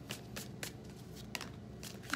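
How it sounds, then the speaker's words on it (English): Tarot cards are shuffled by hand, giving a series of soft, papery riffles and flicks repeating about every half second, close and quiet with no talking. "I just have to shuffle a couple more times"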